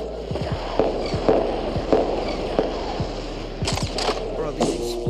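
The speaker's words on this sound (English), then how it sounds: "What the fuck are these explosions" Repeated muffled video game explosions and thuds boom at irregular intervals over a constant low rumble, with a brief cluster of sharper bursts near the end.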